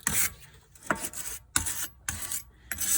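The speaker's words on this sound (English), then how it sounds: "get a steel brush when you got the rotor off. Do a little cleaning, get some of that grime and rust off." A steel brush scrubs grime and rust off the brake rotor of a 2007 Audi A8L D3, giving short raspy strokes in bursts of about half a second with brief pauses between them, fairly close and moderately quiet.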